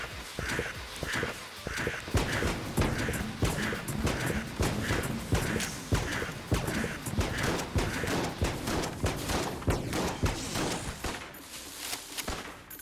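Gatling Gull, a boss in the video game Enter the Gungeon, fires bursts of rapid gunfire, layered with repeating rhythmic shots and clattering game effects that stay loud and dense throughout, with no speech.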